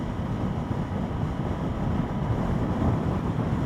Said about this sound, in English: Ooh, that wind is strong.